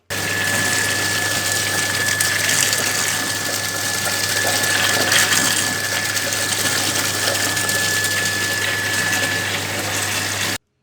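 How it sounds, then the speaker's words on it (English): Water dyed with potassium permanganate flows steadily through a venturimeter pipe rig, a constant rushing hiss with a pump-like hum underneath, loud and unbroken. "So you can easily see how the water is flowing"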